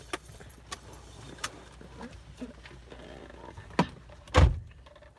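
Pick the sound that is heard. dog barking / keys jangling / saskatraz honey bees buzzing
keys jangling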